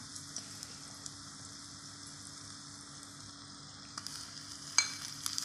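Tomatoes sauté in a miniature pan for chicken biryani with a soft, steady sizzle and a few faint stirring taps, quiet and close with no voices.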